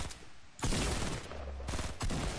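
Loud, dense bursts of gunfire from the video game Fortnite crackle almost without pause, cut by brief gaps between volleys.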